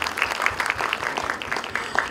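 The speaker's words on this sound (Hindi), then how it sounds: "दीपक दवे साहब, के लिए एक बार जोरदार ताली होनी चाहिए" A crowd at a rock music launch event claps for a guest, giving brief, moderately loud applause with individual claps standing out.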